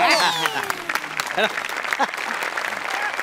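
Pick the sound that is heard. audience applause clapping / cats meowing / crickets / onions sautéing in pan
audience applause clapping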